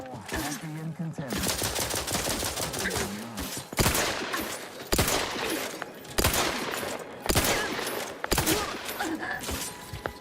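Gunfire in the video game The Outer Worlds 2, with loud rapid bursts of shots broken by several sharp, heavy single blasts, and brief voice under the firing.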